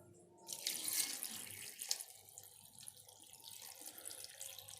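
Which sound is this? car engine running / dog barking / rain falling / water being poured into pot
water being poured into pot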